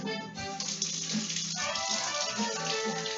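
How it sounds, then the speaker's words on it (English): Hot water gushes steadily from a kitchen tap as metal piping tips are rinsed beneath it, a continuous close splashing rush with no voices. "the easiest way to wash out the tips is to run them under hot water and use a little brush."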